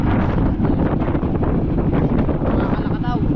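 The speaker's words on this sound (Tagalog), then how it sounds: "Ngayon malakas ang hangin dito mga kasword, dito sa natambang bangka" Strong wind blows across a beached boat on the shore in the early morning, buffeting the microphone with a loud, constant roar, and a voice is briefly heard under it near the end.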